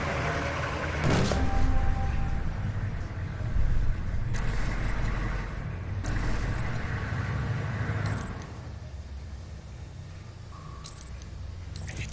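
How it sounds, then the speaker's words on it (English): A truck arriving in the video game Alpha Protocol: a loud, close engine rumble with a few knocks and clanks that eases off toward the end, with no talking over it. "Truck coming in."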